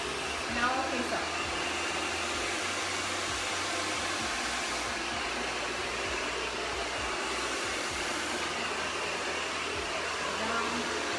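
A handheld hair dryer blows hair dry at close range, a constant loud airy roar with slight shifts as it moves around the head, running the whole time without speech.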